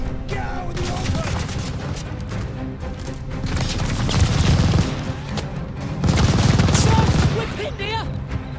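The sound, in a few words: machine gun fire in Call of Duty Vanguard video game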